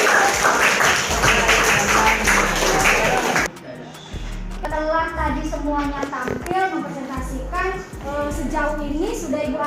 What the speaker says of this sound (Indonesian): Kasih aplaus yuk.